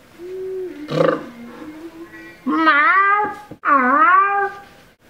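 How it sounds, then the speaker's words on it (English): A cat lets out several drawn-out meows, the later ones loud, wavering and almost yowling, close up with short pauses between. "They have, they have to hear Albie's meow to understand"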